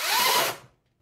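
A chainsaw cuts into a pair of safety chaps, its loud, broadband whine biting hard for about half a second and then stopping abruptly, as if the chain has bound, leaving near-silence.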